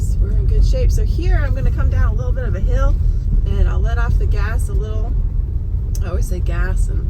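A Tesla Model Y coasting down a small hill on a snowy winter road in Maine: a steady low road and cabin rumble runs beneath a driver talking continuously.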